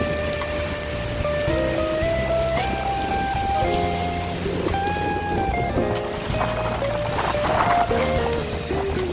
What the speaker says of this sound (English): It is pouring little.